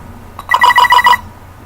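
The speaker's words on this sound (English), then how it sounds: "this type of Commodore computer makes noise" A quick burst of bright electronic beeps from an emulated Commodore computer, about five rapid tonal pulses in a row, fairly loud against a quiet background hum.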